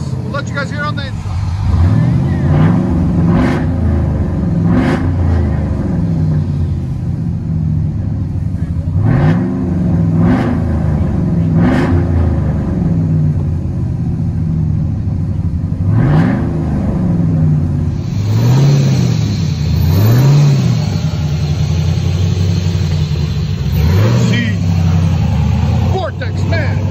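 A 2003 Chevy Silverado with a 6.0L LS V8 and aftermarket exhaust, heard from inside the cab, rumbling at idle and rising in repeated throttle blips, with people talking over the deep droning exhaust throughout.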